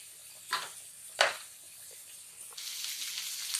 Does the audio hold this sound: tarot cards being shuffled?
no